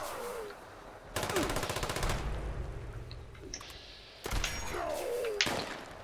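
Railway rifle fire in Fallout 76, loud, sharp bursts of rapid metallic shots in two separate volleys with quieter game sounds in between.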